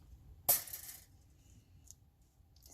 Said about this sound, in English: I know it's loud when those scissors hit that glass mat